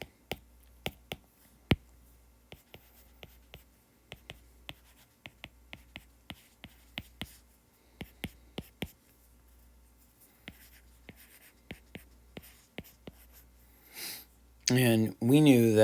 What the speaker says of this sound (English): Try and write that out.